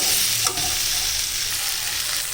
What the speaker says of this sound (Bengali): এবার এটাকে ভালো করে সঙ্গে মশলার সাথে মিশিয়ে নাড়াচাড়া করতে হবে কিছুক্ষণ নাড়তে হবে হবে বেশ করে কষাতে হবে